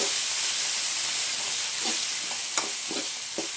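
Squeezed tomato sautéing in a pan for potato masala, a loud, steady sizzle with a few soft stirring scrapes near the end and no voices.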